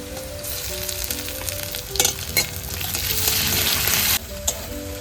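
Loud sizzling as ginger garlic paste fries, with scraping stirs and a few sharp spatters, the hiss dropping suddenly near the end.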